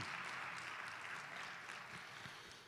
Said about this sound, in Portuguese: Dá um aplauso para Ele bem forte